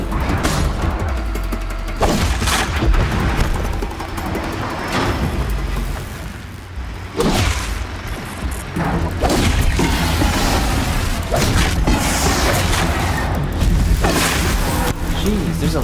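Gunfire and booming blasts in the video game Horizon Zero Dawn, a dense, loud barrage of shots and crashing impacts that continues almost without a break, with heavier bursts standing out along the way.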